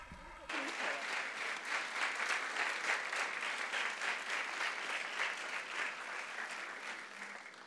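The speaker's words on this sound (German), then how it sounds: "Und jetzt ein Applaus für die Mutter Gottes." A large crowd at a youth festival in Medjugorje breaks into dense, sustained applause after a brief quiet start. The clapping stays steady and full throughout, with a faint voice barely audible underneath.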